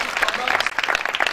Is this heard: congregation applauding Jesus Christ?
yes